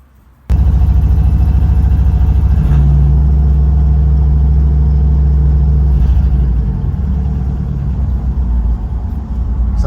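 A Chevrolet Monte Carlo converted into a truck starts up loudly and its engine rumbles hard at close range with a deep, sustained roar that swells and then settles slightly, with no voices.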